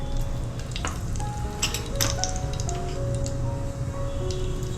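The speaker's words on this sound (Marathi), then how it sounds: "उडद डाळ आणि चणा डाळ मस्त तेलामध्ये भाजून घेऊया" Urad dal and chana dal fry in hot oil with crackling mustard seeds for lemon rice, a continuous moderate sizzle dotted with small pops and spits.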